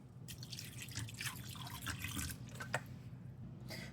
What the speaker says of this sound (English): I'm gonna pour some fresh, clean water on it